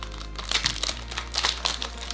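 Packaging for a Logitech K380 keyboard crinkles and rustles as it is unboxed, a few close, crisp bursts of plastic and paper handling in quick succession.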